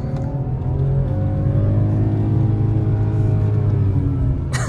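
A car engine steadily accelerates on a motorway, its rising engine note sustained and fairly loud throughout with no talk over it; the short gearbox keeps the revs high.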